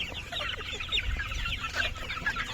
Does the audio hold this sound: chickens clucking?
yes